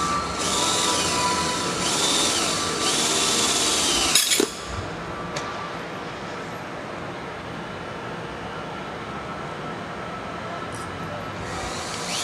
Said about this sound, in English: You'll use a screw to drill through the second layer and into the top.